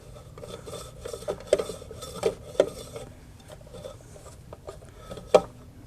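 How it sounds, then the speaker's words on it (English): A 1930 Briggs car's wheel turned by hand, giving a faint, scratchy rubbing with a few sharper scraping catches scattered through, close and quiet, with no voices. "I'm feeling a little bit of rubbing"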